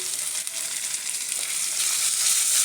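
Ginger-garlic paste and ground coriander sizzle in hot oil as chicken curry cooks, a steady bright crackling hiss with faint stirring, close and moderately loud, growing slightly fuller toward the end.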